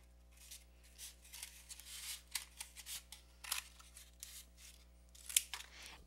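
Scissors cutting the closure flap off an egg carton, a series of soft scattered snips and crunches of cardboard, close but faint over a low steady hum.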